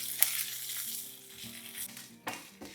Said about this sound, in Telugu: కాస్త జీలకర్ర, వెల్లుల్లి వేసి ఇలా మంచిగా దూరగా వేయించండి.